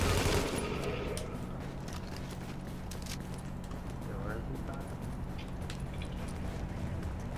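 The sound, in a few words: gunfire from NPCs in the video game The Division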